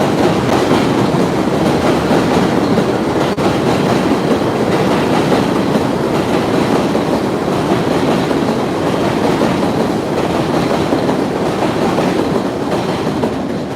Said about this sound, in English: I had to wait until the train passed